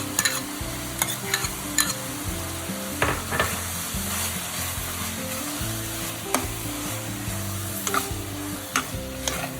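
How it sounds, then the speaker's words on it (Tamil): Minced mutton sautéed with ground masala paste and garam masala in a pan, a steady close sizzle broken by frequent scraping spoon strokes and clinks against the pan, no talking. "இந்த மசால் வாசம் போகிற வரைக்கும் நல்லா கொத்துக்கறி கூட சேர்த்து வதக்கிக்கிட்டே இருக்கணும்"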